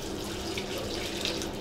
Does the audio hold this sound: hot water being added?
yes